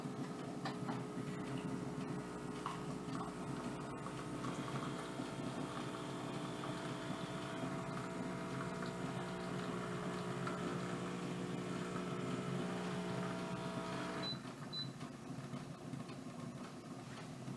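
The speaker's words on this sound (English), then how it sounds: "I'm going to hit the espresso button to tell it what I put in, and it just sort of brews it." A single-serve espresso machine brews with a continuous droning pump hum, steady and fairly loud, with a brief knock early on and a slight change in tone near the end.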